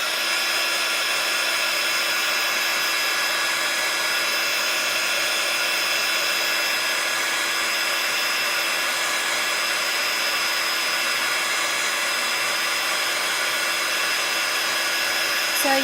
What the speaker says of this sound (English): Heat gun's going on.